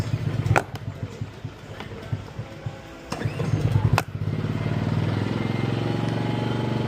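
A small ECHO portable generator's engine runs steadily after a fix for hard starting, a close, loud putter with a few clatters before it settles into an even drone.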